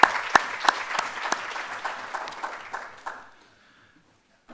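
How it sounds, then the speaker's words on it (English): Applause from an audience at a summit, a mid-sized crowd of clapping hands with a few sharp claps on top, tapering off after about three seconds into silence. "Let's give her another hand of applause."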